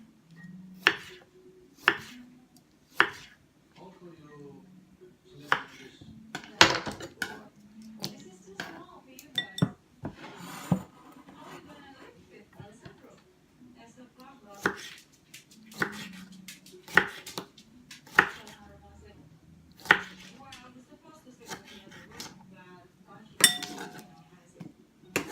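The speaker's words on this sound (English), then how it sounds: "So we're going to go ahead and cut these up. I'm going to cut it in half, and then we're just going to cut them thin this way." A knife cuts a Roma tomato on a cutting board in a series of sharp, separate close taps, with clinking from cutlery and dishes between the cuts and a person talking throughout.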